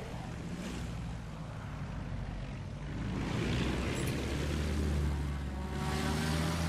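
A WWI airplane in Battlefield 1 flies with a steady droning engine and rushing wind that swells and fades as it turns, continuous and close, with no voices.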